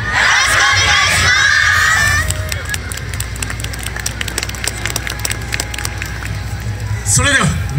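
Crowd cheering and shouting loudly for a Kyoto Kyōen sodefure dance team at the Basakani 2017 festival park venue, a dense burst of voices that gives way to scattered claps, calls and wooden clacks before a voice rises at the end.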